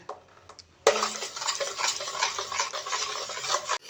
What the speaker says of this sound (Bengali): এবার আমি আমের মিশ্রণটা গুড়ের মধ্যে দিয়ে দিলাম। ফ্লেমে অনবরত নাড়তে থাকবো।